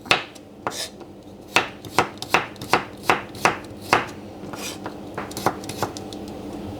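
Knife slicing through fresh turmeric on a cutting board for a Southern Thai dish, a run of sharp, evenly spaced chops close by, quickening in the middle and then trailing off into lighter cuts.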